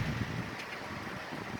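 Strong, gusty wind of about 35 miles an hour during a thunderstorm, buffeting the microphone in a steady, loud rush with low rumbling buffets throughout and no talking.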